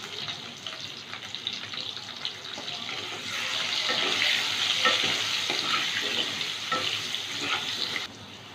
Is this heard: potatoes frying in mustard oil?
yes